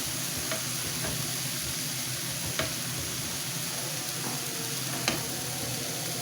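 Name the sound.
chopped onions frying in a pan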